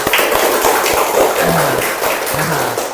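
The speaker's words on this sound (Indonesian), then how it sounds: "Tepuk tangan untuk ketiga kelompok ya." A classroom of students applauds three presenting groups, sustained loud clapping from many hands filling the room, with a voice briefly speaking partway through.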